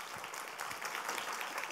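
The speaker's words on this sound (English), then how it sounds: "let's have another round of applause" A crowd applauds, a dense patter of clapping hands at a fairly quiet level, continuing steadily with no speech over it.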